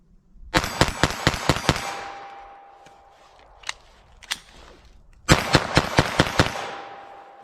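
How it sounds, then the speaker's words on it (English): Rapid .22 Long Rifle shots fired from a semi-automatic with Federal Punch rimfire ammunition, a tight burst of six or seven sharp cracks, a couple of isolated shots, then another quick string of six, loud and close. "let's see what I can do with our 22 long rifle here"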